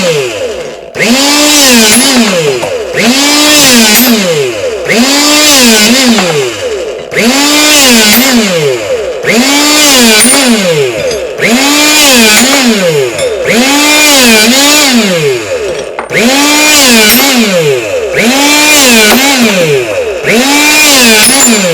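An Anbull 1300W electric hydraulic rebar cutter cutting 1/2 inch rebar runs in loud, repeated motor cycles, each rising and falling whine pulsing about every two and a half seconds, close and alone with no talk.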